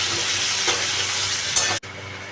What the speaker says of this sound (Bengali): পেঁয়াজটা হালকা ভাজা হয়ে এলে দিয়ে দেবো আদা রসুন বাটা